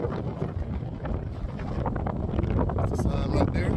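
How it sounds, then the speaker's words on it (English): Strong wind buffets the microphone across the open Bonneville Salt Flats, a steady roaring rumble with gusty surges that swell louder toward the end, continuous throughout with no other clear sounds. "I know y'all hear the wind."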